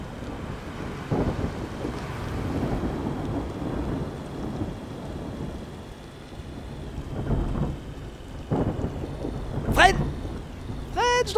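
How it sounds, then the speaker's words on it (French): Video game thunderstorm: rumbling thunder rolls over steady rain, with several low booming swells and a sharp crackle near the end. "les sons d'orage de mort, je sais"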